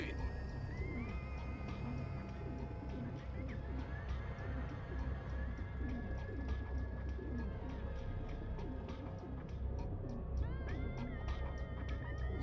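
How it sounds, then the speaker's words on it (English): Pigeons coo in a busy Dreamfall Chapters game scene, soft repeated calls mixed into a dense, steady bed of ambient game sound with voices and clopping-like footsteps throughout. "So he's chasing all the pigeons around."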